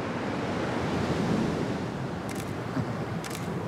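Ocean surf rolls steadily along a shore in Fiji, a dense continuous wash of breaking waves with some wind buffeting the microphone and no talking.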